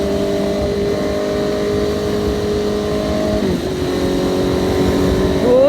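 A steady Honda CBR650F motorcycle exhaust drones close by, dipping briefly midway before rising again with a slight rev near the end.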